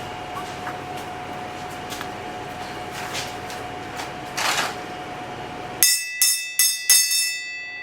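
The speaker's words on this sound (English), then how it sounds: "You want to ring the bell?" A bell rings near the end of a garage show about bleeding the brakes on a 1946 Ford: four sharp, bright strikes in a quick series after a low hum of background noise cuts out.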